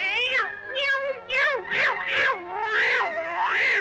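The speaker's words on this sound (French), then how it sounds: "Un petit chat noir s'arrête devant le canard. Mickey lui attrape la queue et tire dessus." A black cartoon cat in the 1928 animated short Steamboat Willie yowls in a series of rising and falling meows as Mickey pulls its tail, loud and close with no other sound.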